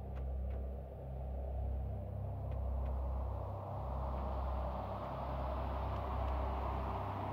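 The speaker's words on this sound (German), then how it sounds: "Was für ein Sturm." A storm in the survival game Planet Crafter produces a low, steady rumbling wind drone, faint and continuous with a deep hum underneath, heard alone without speech.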